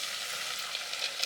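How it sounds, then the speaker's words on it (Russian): Breaded spotted greenling fish lowered into hot deep-frying oil, giving a steady, close hiss of sizzling fat that runs without a break, with a few slightly louder crackles near the end. "аккуратно укладываю во фритюр"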